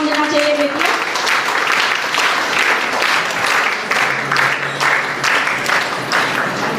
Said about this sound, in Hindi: वीर तालियों के गड़गड़ाहट से ये हाल गूंजना चाहिए बेटियां।